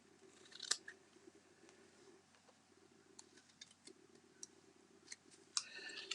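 Scissors snip ribbon tails on a handmade card: a few sharp, close, quiet cuts scattered among faint handling sounds over a low steady hum, with no voices.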